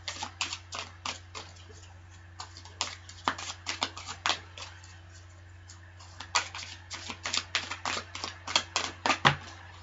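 Tarot cards shuffled by hand give crisp, papery flicks and riffles in irregular bursts over a steady low hum, with no one talking.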